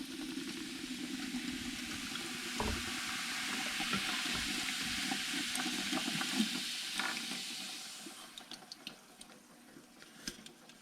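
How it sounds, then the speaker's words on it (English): Two cans of Coco Rico natural coconut soda are poured into a pot of pork butt and pig feet, making a steady splashing, fizzing gush that tapers off into small drips and clinks. "we're gonna put 2 cans of natural coconut soda, basically 2 cans of this in."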